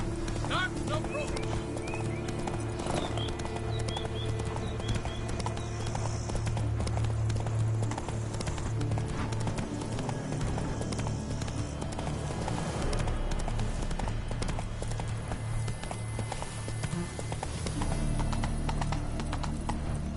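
Roach the horse gallops in The Witcher 3: Blood and Wine, hooves clip-clopping in a quick steady rhythm under game music and effects, with a short neigh and a voice speaking over it.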